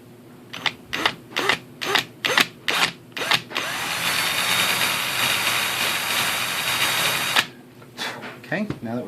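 A power drill bores through the metal of a Crosman Nitro Venom air rifle: several short revving bursts, then one long steady high whine for about four seconds before it stops, close and loud.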